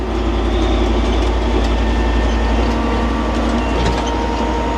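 A Ford FW30 tractor engine idles and runs steadily throughout, with a deep low rumble and mechanical clatter, close and continuous.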